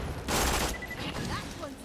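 Sniper rifle fire in a video game comes as a loud burst of gunfire, followed by game effects, with a player's voice talking over it.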